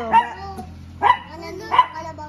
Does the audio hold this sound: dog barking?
yes